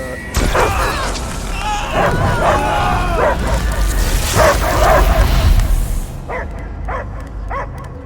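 A dog barks repeatedly and loudly in Marvel's Guardians of the Galaxy video game, mixed with booming effects and a voice, then a few quieter yips trail off at the end.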